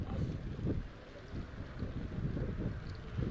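Wind blowing across an open stand at an under-18 football match, a steady low rumbling buffet against the microphone with gusty swells and no clear voices.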